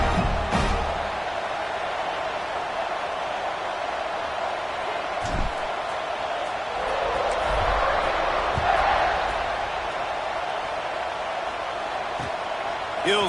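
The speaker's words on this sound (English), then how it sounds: "this crowd is buzzing after that last score" Football stadium crowd keeping up a steady, broad buzz throughout, with a swell in the middle and a few sharp thumps, while a broadcast commentator talks over it.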